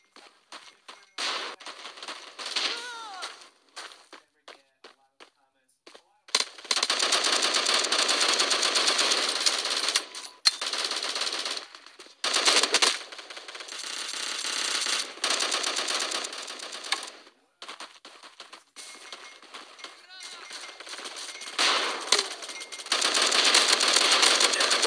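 Gunfire in the mobile shooter Bullet Force, with rapid bursts of hissy, clattering automatic shots of varying length broken by short pauses, loud and close.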